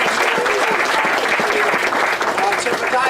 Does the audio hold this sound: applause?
yes